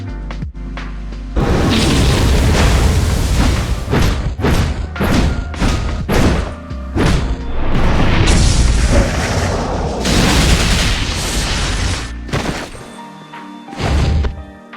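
Kanon's third skill animation in the video game Outerplane plays as a loud barrage of heavy thumps, booms and crashing impacts in quick succession, dense and continuous for several seconds before easing off near the end.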